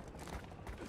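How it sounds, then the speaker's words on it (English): A quick, faint mechanical clack and rattle of a weapon magazine being swapped in Call of Duty: Modern Warfare II, a short burst of metallic handling noise with no voices. "Switching mags."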